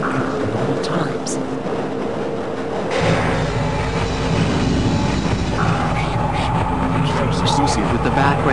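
A train from Half-Life: Opposing Force rolls along its rails with a steady rumble and rattle that grows heavier partway through, while a voice announcement carries on over it.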